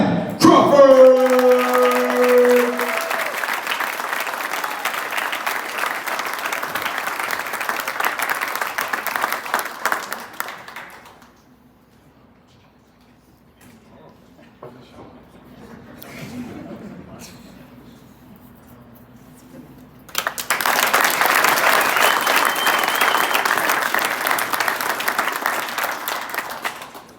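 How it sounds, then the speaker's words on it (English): Crowd applauding and cheering a player at a soccer team signing day, with loud clapping for about ten seconds, a quieter stretch with faint talking, then another loud burst of applause. "please give a huge round of applause for our next player wearing number 11, Gavin Crawford"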